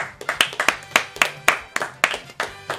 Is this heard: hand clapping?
yes